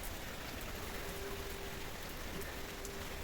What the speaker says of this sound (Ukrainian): Дивіться, такий вітер, що забиває цей дощ, ось стіна вже вся мокра.